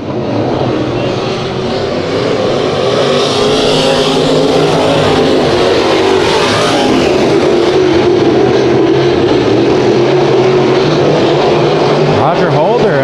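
Race cars roar around Bakersfield Speedway during a heat race, a loud, continuous engine drone that swells and shifts as the cars pass, with a commentator talking over it.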